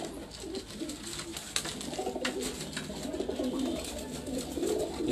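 Pigeons coo repeatedly on a rooftop loft in Larkana, Sindh, soft throaty calls overlapping at close to middle distance amid light wing flutters and background rustle.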